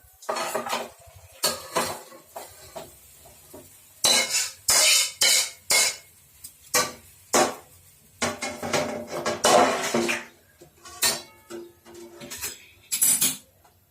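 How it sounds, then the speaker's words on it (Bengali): Egg tarka is poured and scraped out of a metal kadai into a bowl with the gas switched off. Sharp, irregular metallic clinks and scrapes of a spoon against the wok come in close, loud bursts separated by brief quiet gaps. "কড়া থেকে আমি এটা ঢেলে ফেলছি বাটির মধ্যে"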